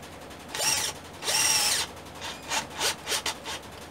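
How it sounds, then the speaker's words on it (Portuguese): Mondial impact drill-driver on speed 1 driving a self-drilling screw into wood: two sustained whirring bursts with rising pitch, then several shorter pulsed spurts as the screw seats, close and loud. "Vamos colocar um parafuso autobrocante na madeira"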